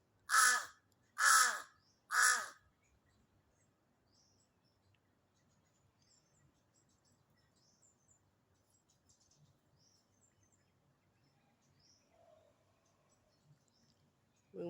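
Three loud, harsh caws from a black crow foraging around houses, close and evenly spaced in the first few seconds, followed by a long quiet stretch of faint background sound with a soft call near the end.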